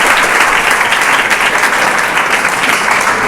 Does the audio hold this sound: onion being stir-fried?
no